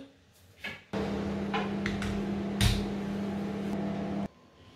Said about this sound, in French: donc ça je vais le mettre au micro-ondes